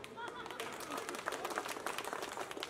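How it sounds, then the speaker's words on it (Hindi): Guests clap at a birthday party for a lyricist's daughter, a busy, sustained patter of hands that is close and fairly steady, with voices mixed in. "ताली बजानी पड़ेगी"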